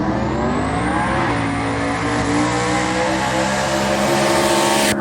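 Race car on a full-throttle drag run at a Shutdown Showdown event, played back as a recording: a loud, continuous roaring engine with rising harmonic pitch that builds steadily over five seconds, heard alone with no talk.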